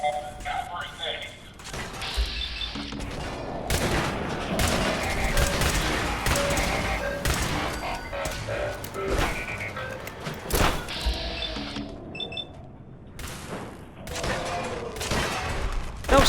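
Dense gunfire from a Fallout 4 battle, heavy bursts and thuds rolling on without pause, with crashes and impacts mixed in and a voice talking over the din.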